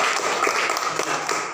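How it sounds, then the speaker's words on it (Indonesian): Classroom applause for students, a brief burst of scattered clapping from a group, fairly loud and close, with a few louder individual claps standing out near the end. "tepuk tangan dulu untuk mereka yang"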